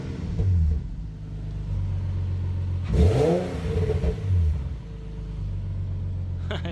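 Nissan 370Z sports car with a 332 bhp engine revving and pulling on a test drive, a steady rumbling drone that swells sharply mid-clip, with a voice speaking briefly over it.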